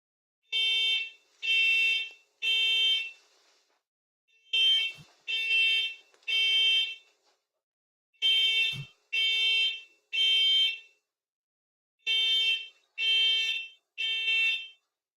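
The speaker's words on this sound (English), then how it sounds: "There's a fire alarm or something went off." Fire alarm blaring during a live traffic radio show, loud piercing electronic beeps in groups of three with pauses between, repeating four times with no talk over it.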